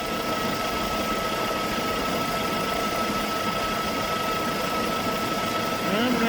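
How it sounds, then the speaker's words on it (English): A Hummer H3 engine idles roughly and shakes, with a VVT solenoid, belt tensioner and idle pulley under repair, heard as a constant close mechanical drone with a faint whine and no talking. "It's actually shaking quite a bit, but it's hard to tell in the video."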